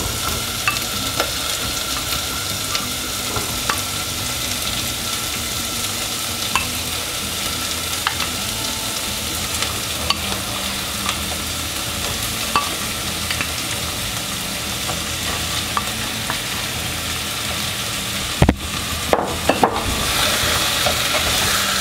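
Beef frying in a pan for mechado, a steady dense sizzle with stirring scrapes running throughout at an even level, a few sharper clatters near the end, no talk.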